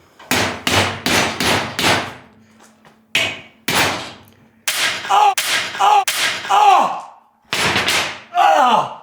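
Hammer striking metal held in a vise, sharp loud clanging blows in quick bursts of three or four with brief pauses, some hits ringing with a metallic tone.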